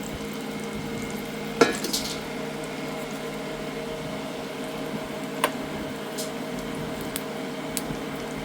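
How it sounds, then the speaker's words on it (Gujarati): Spices temper in two ladles of hot oil for a red chili pickle: a low, even sizzle with a few sharp spatters and clicks scattered through it, close and without speech. "મસાલો વઘારાઈ ગયો છે."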